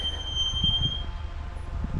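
A train rumbles steadily past at a small station in Poland, a low continuous roll with a thin high squeal of wheels above it, close and unbroken.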